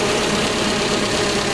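A Nissan H20 engine in a TCM FG25N2S forklift running, a brief steady rumbling idle with a dense mechanical drone and no voices.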